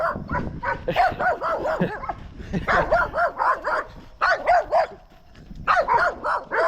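A dog barks repeatedly at a runner outdoors, loud, close bursts coming in rapid clusters with short pauses between volleys.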